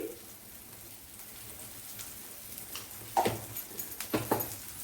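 Heavy rain falls outdoors as a steady, soft patter, with a few louder drop impacts near the end.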